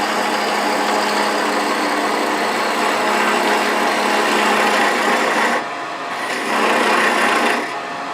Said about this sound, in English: I'm going to use my beading and parting tool for that